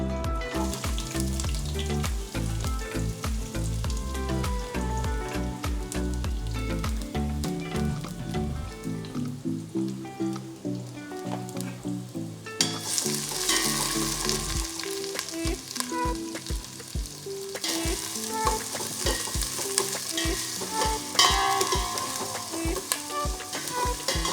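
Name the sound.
garlic sautéing in a pan for cabbage chicken curry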